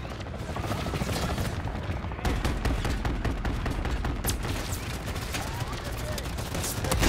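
Sustained machine gun fire in the video game Call of Duty Modern Warfare III, dense rapid bursts that continue throughout with chaotic battle noise layered over them, loud and continuous.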